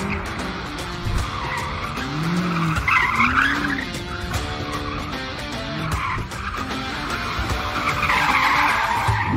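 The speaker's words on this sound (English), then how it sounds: "here's another montage of me hooning around in an M5 competition" A BMW M5 Competition driven hard: tires squeal and skid in long wavering screeches over a revving engine, loud and close, with no talk.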